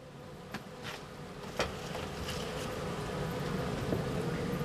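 Honey bees hum steadily inside a hive being checked before winter, a dense close buzz with a few brief louder bees passing near.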